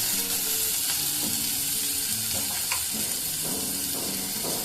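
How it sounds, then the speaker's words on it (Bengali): Sliced bitter gourd and potatoes fry in oil in a pan, giving a continuous dense sizzle and hiss throughout, heard up close with no talking. "এইভাবে ভেজে নিলে কিন্তু দেখুন এটা ভাজাও হয়ে যাবে"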